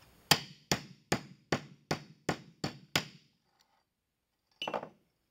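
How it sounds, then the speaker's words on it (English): A brass hinge pin being hammered closed with eight sharp, evenly spaced metallic strikes, each ringing briefly, then a pause before one final softer blow, close up with no talk. "and hammer the hinge closed."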